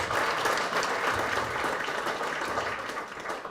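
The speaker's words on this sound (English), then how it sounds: "Can you give him a hand of applause?" A conference audience in Zimbabwe applauding a speaker, with a thick, continuous roll of clapping from a large hall crowd that stays even and fairly loud for the whole stretch.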